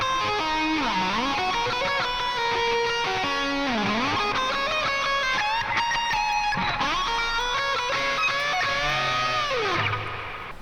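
Distorted electric guitar plays the first solo of a song, loud and continuous with bends, slides and fast single-note runs, alone with no talking.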